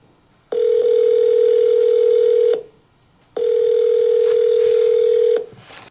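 Two long, loud ringback tones sound on an outgoing phone call, each about two seconds long with a short silent gap between them, close and clear with no speech.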